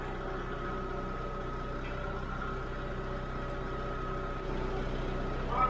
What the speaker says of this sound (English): Crank up the generator